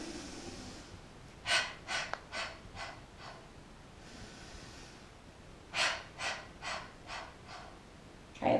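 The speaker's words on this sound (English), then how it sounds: "They're just short staccato breaths." Piston breathing exercise in a pre- and postnatal warm-up: two bursts of short, sharp staccato breaths, five or six quick puffs each, close and fairly quiet with pauses between sets.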